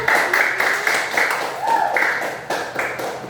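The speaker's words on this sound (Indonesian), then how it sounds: "boleh tepuk tangannya" A group of primary school pupils claps together in a classroom during a lesson, with rhythmic clapping in several loud bursts mixed with voices.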